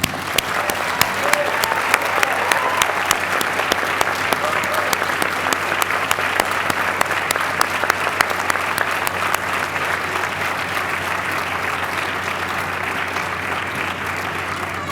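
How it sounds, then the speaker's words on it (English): Steady, dense audience applause at a medical school commencement ceremony, sustained evenly for about fifteen seconds from a large crowd with no break. "Please join me in applauding these very important people."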